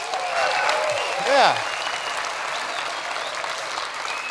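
Audience applause fills a lecture hall during a Christian apologetics talk, steady broadband clapping throughout, with a short voiced exclamation rising over it.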